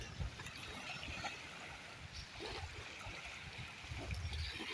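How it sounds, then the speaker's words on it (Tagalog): Sea waves wash and churn steadily, a soft broad rushing of water with gentle swells rising and falling, fairly quiet and without voices. "Ang ingay ng alon."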